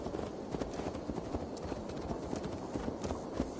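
Horse hooves in a video game with a Viking setting, a steady clip-clop of trotting on the ground, moderately loud and close, running without a break and with no talk over it.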